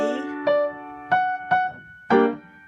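Four piano chords struck one after another at a moderate, slightly uneven pace, each ringing and fading before the next, clear and alone.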